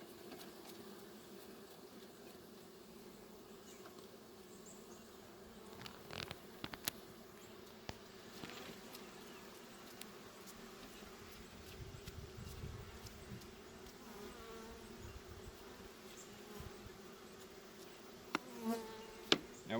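Bees buzz steadily around a top bar hive during honey harvest, a soft continuous hum with occasional louder passes and small clicks and knocks from handling frames.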